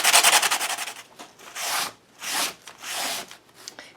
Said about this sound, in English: We're going to bring in the sandpaper.